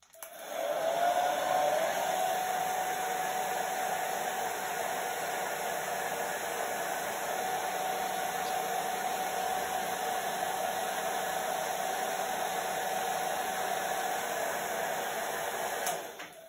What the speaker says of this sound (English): give that a little blast with a hairdryer before I touch it again